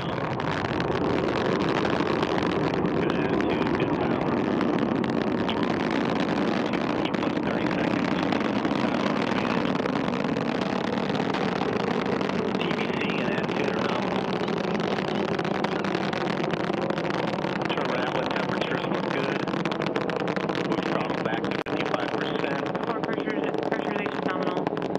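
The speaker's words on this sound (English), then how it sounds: "Liftoff confirmed. Antares and the SS Gene Cernan now bound for the International Space Station." Antares 230 rocket lifting off carrying the Cygnus spacecraft SS Gene Cernan, heard as a continuous low, distant rumbling roar that holds steady throughout, with a voice talking over it.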